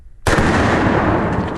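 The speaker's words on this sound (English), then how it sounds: "is the most incredible watermelon explosion I've ever seen with a handgun in my life" Handgun shot with a 240-grain hollow point bursting a watermelon, a single sharp loud blast after brief quiet, followed by a rumbling echoing decay.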